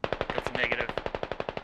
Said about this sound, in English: The BTR is just gonna start shooting the ridge line.